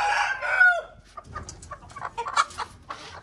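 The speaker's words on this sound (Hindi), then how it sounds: "कौन सी मुर्गी किससे लड़ रही है" Aseel chickens squabbling in a yard give a run of close, sharp clucks and agitated squawks, following a brief louder call at the start.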